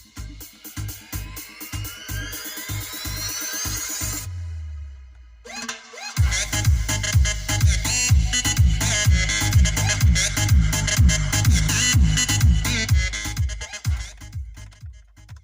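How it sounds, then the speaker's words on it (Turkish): Music plays loudly through the factory speakers of a Fiat Egea, a bass-heavy track with a steady thumping beat after a brief pause and a sweeping electronic intro. "Şimdi şarkıyı açalım hemen."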